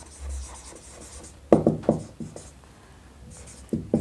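A pen scratches on paper in short strokes, with a quick cluster of marks, a pause, and more strokes near the end. The scratching is close and fairly faint.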